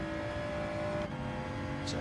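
Race cars, including a BMW, a Ferrari and a Hyundai Elantra, run in a Gran Turismo 7 online lobby race, with steady engine drone and tire noise held under continuous commentary.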